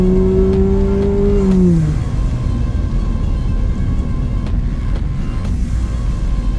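A sports car switched into sport mode accelerates, its engine note rising and then dropping as it shifts, followed by a steady, fairly loud drone of road and engine noise with no talking.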